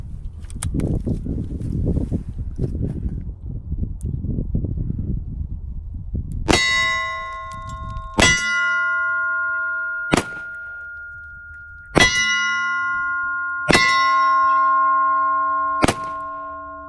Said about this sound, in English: we're just gonna keep dumping some rounds downrange